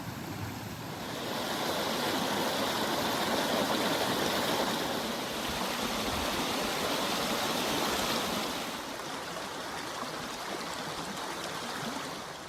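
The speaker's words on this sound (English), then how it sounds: "I wasn't expecting this to be a waterfall walk." Steady, full rushing of a stream and waterfall heard on a countryside walk, a continuous broad wash of water that swells slightly midway and carries on with no voices.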